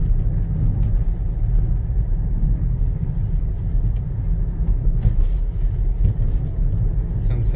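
BMW X3 20d xDrive F25 with 184 hp driving over a badly broken, potholed road, giving a steady low road rumble and engine drone inside the cabin with occasional thumps, while people talk quietly.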